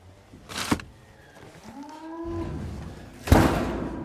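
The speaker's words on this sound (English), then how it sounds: "Part 3 back with the cattle." Cattle moo on a farm, one long low lowing call rising and falling in the middle, with shorter bursts of noise before and after; no talking.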